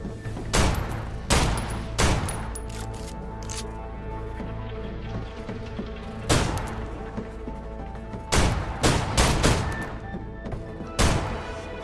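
Gunfire shooting at crystals in the video game Snowbreak: Containment Zone, sharp loud bursts of shots in several separated volleys over a quieter humming game backdrop, close and punchy.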